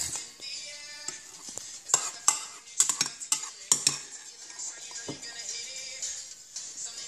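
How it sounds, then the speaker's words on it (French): Waffle batter is gently folded with beaten egg whites in a bowl, with soft stirring and a series of sharp clinks from a utensil against the bowl, strongest midway through. "nous allons finir de mélanger doucement, délicatement"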